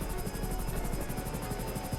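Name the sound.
Hunter helicopter flying in video game GTA Online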